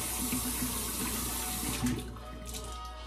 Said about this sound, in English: Now, let me rinse out my brush.